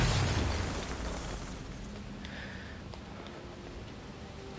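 Explosive gel detonating in Batman: Arkham Knight, a loud, deep blast at the start that fades into a long rumbling decay with faint debris and ambient tones.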